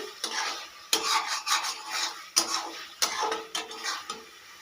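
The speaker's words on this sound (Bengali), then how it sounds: "ভালো করে সব কিছু আবারও মিশিয়ে নেব মশলার সঙ্গে" Pointed gourd cooked down with spices is stirred in a pan, a spoon scraping and clattering against the metal in a steady run of strokes, close and fairly quiet, with a faint sizzle underneath.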